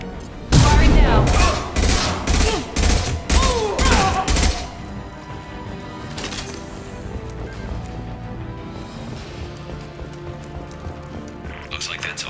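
Rapid bursts of weapon fire in Mass Effect 2, a loud close volley of repeated shots lasting about four seconds, then quieter combat ambience with a distant report, with voices talking during the clip.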